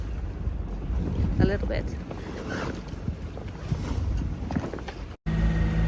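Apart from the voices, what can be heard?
wind blowing while cruising on a boat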